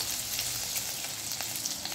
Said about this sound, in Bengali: এবার দিয়ে দিলাম দারচিনি আর একটা এলাচ ফোড়ন।